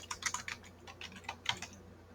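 Keystrokes on a computer keyboard while a PHP code comment is typed, a quick irregular run of close clicks with brief pauses, heard alone with no voice.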